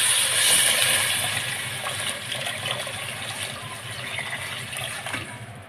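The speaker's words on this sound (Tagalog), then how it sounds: "Lagyan ng sabaw." Broth pours into a pot of papaitan, a beef-based stew, as a steady gushing splash of liquid that is loudest at the start and then eases into a softer trickle.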